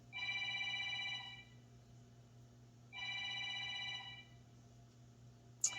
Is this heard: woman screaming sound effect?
no